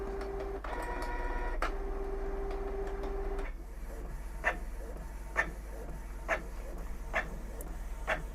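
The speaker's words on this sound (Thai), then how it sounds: "ตอนนี้ก็พิมพ์ออกมาแล้วครับ" Printer running a photo job sent from a phone through a print server, a steady mechanical whir with a tonal hum, then rhythmic soft clicks and ticks as the paper feeds through, quiet and close.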